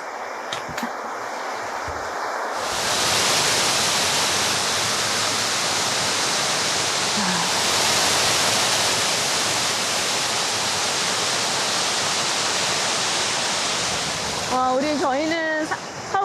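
A rushing mountain stream in the Sammaksa valley near Seoul, swollen with water, gives a loud, steady broadband roar close by. A voice is heard briefly near the end over the water.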